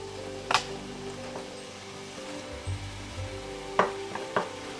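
Keto fish fries steadily in a hot pan, giving a constant close sizzle and crackle broken by a few sharper pops and spatters, with no talking.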